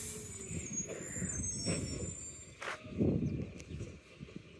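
An EDI New Way Sidewinder garbage truck on a late trash route, its engine rumbling nearby with sharp bursts of air-brake hiss.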